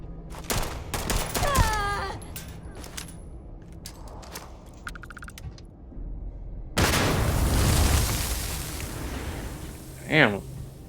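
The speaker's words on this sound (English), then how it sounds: "I threw the grenade over there." A grenade blast in Starfield hits as a sudden loud roaring burst partway through, followed by a decaying rumble, amid scattered gunfire and someone talking.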